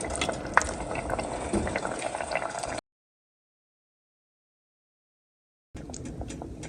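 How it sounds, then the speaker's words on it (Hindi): Masala for Pakistani-style beef qorma sizzling and being stirred in a pan, with a steady frying hiss and scraping, then a gap of silence before the sizzle returns. "इसको अच्छी तरह भून लेते हैं।"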